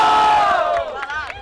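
A crowd at a Brazilian rap battle in Cabo Frio roars and yells for the MC Garcia, loud, close and sustained for the whole moment, with shrill shouts rising over the mass of voices.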